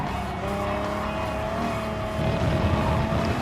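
A Gr.1 race car in GT Sport accelerates hard out of a corner, its engine holding a loud, steady high drone that builds in intensity toward the end, with tire noise underneath and no talk.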